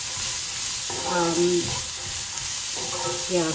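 Vegetables softening in a pan over low heat for Indian-spiced Italian veg rolls, giving a steady soft sizzle with a few stirring scrapes and clinks near the start and end.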